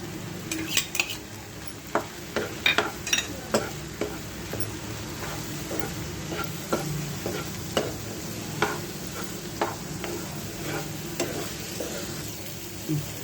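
Prawns fry with ground masala in a pan, a soft sizzle under frequent sharp clinks and scrapes of a metal spoon stirring against the pan, close by.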